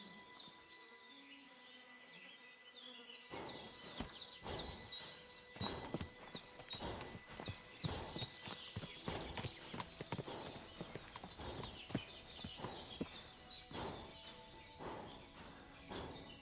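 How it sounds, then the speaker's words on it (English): Horse hooves clip-clop at a steady walking rhythm in the video game Kingdom Come: Deliverance 2, a clear repeated clatter lasting throughout after a quiet opening, with faint insect-like buzzing in the background. "What a cheap old nag."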